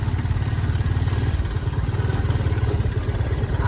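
Tractor engine running in a Nepali village, a loud, close, steady low chugging with rapid rhythmic pulses and mechanical clatter throughout.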